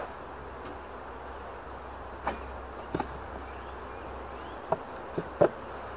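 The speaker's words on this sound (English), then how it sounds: "there's all my bees. See them?" Honey bees buzz around a beehive in a steady, fairly quiet drone, with a few brief sharper bursts as individual bees fly close past.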